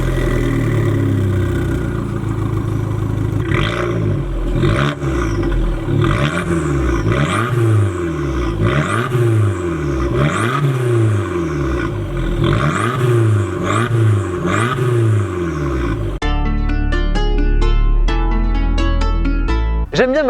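Abarth 695 Rivale with an Akrapovic exhaust revs repeatedly, the engine rising and falling in a series of rhythmic blips, close and loud, before a music-like tonal passage takes over near the end.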